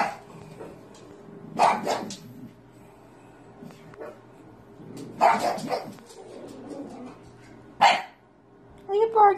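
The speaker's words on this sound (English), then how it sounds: "Are you barking, Jeff Goldblum?" A pug barks in a few short, sharp bursts spread across the stretch, close by, with people talking around the barks.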